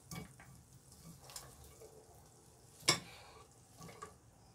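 Onions dropped into a moderately hot frying pan for French onion soup give a soft sizzle and stirring scrapes, with one sharper clatter midway, fairly quiet and close, no talking.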